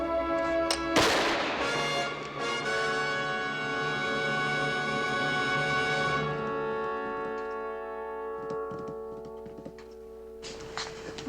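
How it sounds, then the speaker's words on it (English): A single gunshot cracks sharply near the start of a scene from a 1960s frontier television drama, then sustained orchestral music swells and slowly fades, with no speech. "I imagine the report you heard a moment ago may have sounded like gunfire."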